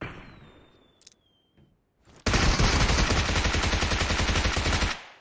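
Rapid gunfire from a shooting video game bursts in after a couple of faint clicks, a dense, loud continuous volley lasting nearly three seconds before cutting off.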